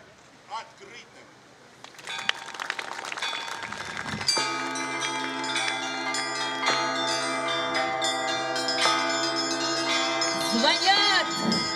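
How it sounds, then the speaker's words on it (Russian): Church bells ring at the opening of a bell-ringing festival in the village of Alekseevskoye. After a few scattered sounds, a dense, sustained peal of several bells sets in and keeps going, loud and resonant, with overlapping strikes. "Звонят колокола."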